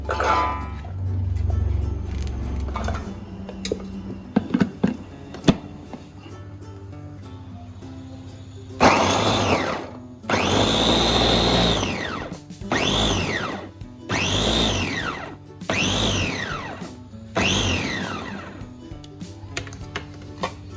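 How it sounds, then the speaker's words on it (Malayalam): An electric chopper whirs through small onions (shallots) in several loud bursts with short pauses between them, coming after a quieter stretch of kitchen handling. "ഞാനിവിടെ ചോപ്പറിലേക്ക് കുറച്ച് ചെറിയ ഉള്ളിയാണ് ഇട്ട് കൊടുക്കുന്നത്"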